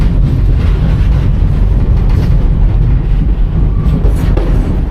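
A Reading & Northern freight train on the main line near East Mahanoy Junction, a loud, steady rumble of wheels on rails heard from on board, with faint clatter throughout.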